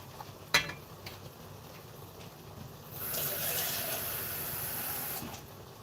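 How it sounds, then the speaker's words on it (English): Water pours into a cooking pan holding sausage, a steady hissing gush lasting a couple of seconds after a brief clatter, fairly close and moderately loud with no talk over it. "And some water just to help things along."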